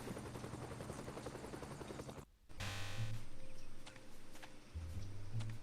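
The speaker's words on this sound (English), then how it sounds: "Another perfect landing out of a helicopter!" Steady rhythmic helicopter rotor thumping from Strong Bad's Cool Game for Attractive People, broken by a brief dropout, then continuing with low hum and chopping under game tones.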